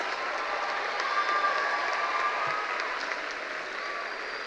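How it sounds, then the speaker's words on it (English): Audience applause at the King's Fork High School 2025 graduation ceremony, a steady dense wash of many hands clapping that holds for several seconds at moderate volume in a large space. "Take a moment and give yourselves a round of applause."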